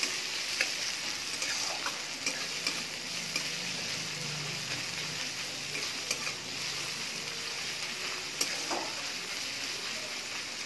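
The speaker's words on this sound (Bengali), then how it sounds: "আমি একটু পেঁয়াজটাকে ভেজে নিচ্ছি" Onions fry in hot oil for aloo paratha, a soft continuous sizzle with occasional light stirring taps and clicks, close and fairly quiet with no talk.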